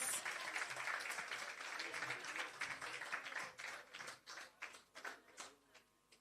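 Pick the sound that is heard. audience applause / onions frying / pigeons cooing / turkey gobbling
audience applause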